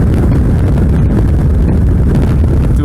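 Strong wind buffets the microphone during a ride on a Suzuki V-Strom 650 motorcycle, a loud, constant roaring rush with no gaps and no voices.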